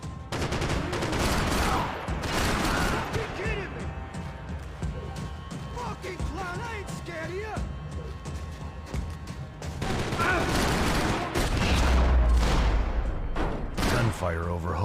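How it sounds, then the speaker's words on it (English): Rapid bursts of gunfire from the video game Max Payne 3 crackle almost continuously under shouting voices, with heavier booming blasts near the end. "gunfire over Hoboken."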